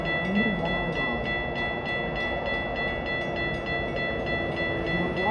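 A Metra Milwaukee North commuter train rolls into a station during a blizzard with a steady rumble and high whining tones, while a repeated rhythmic clatter of wheels runs beneath.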